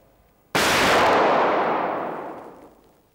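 A single gunshot fired at a target during shooting practice: one loud, sharp crack bursting out of near-silence, then a long ringing decay that fades over about two seconds, with no voices.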